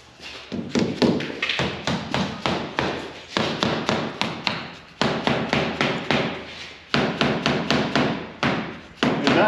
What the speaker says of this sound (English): Con, grab that little hammer.